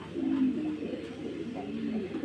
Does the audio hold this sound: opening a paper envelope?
no